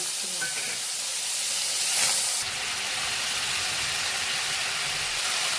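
Shrimp coated in salt and turmeric dropped into hot oil in a wok, giving a steady close sizzling hiss with a brief louder burst as they hit the oil.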